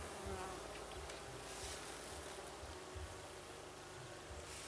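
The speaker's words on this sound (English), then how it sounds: "Bees up here, that's fine." Honey bees hum around an open beehive, a low continuous buzzing drone that stays faint and even throughout, with no voices.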